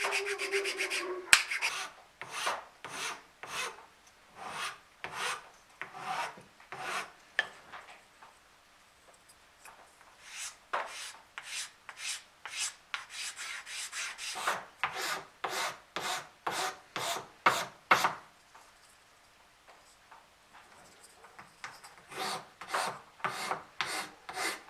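A rasp works a wooden fishing lure body in steady bursts of rhythmic rough strokes, close and fairly loud. Short pauses separate the runs of filing.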